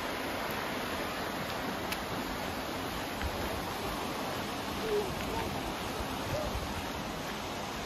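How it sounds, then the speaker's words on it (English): The Short Sand River rushing close by on the Oregon coast near Short Sand Beach, a steady broadband roar of flowing water that stays even and unbroken from start to finish. "And here we're right next to this rushing beautiful river,"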